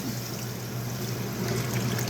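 Meat juices pour from a bowl into a cooking pot during a large batch of freezer meal prep. The soft, steady trickle stays close and lasts only a couple of seconds, with no talking.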